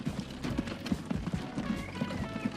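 Horse hooves clip-clop in the Transport Fever 2 game, a steady, evenly paced run of hollow knocks at moderate volume, continuing throughout with faint background game sounds and no speech.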